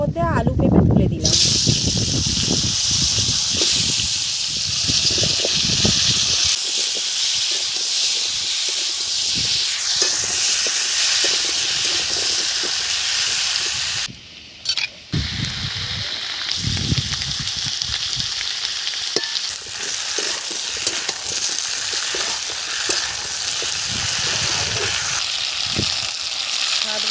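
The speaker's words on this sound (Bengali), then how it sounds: "ওই মাছ ভাজার তেলের মধ্যে আলু পেঁপে তুলে দিলাম।" Potato and papaya pieces fry in hot oil left over from frying fish, giving a loud steady sizzle and hiss throughout, briefly dropping before resuming, with stirring noises and occasional talk.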